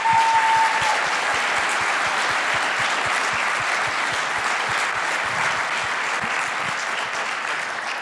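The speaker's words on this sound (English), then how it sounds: "let's please give a round of applause to the Angular team for all their hard work" Audience applause for the Angular team at ng-conf 2024, a steady, dense clapping from a large crowd that lasts the whole stretch at an even level, tapering slightly near the end.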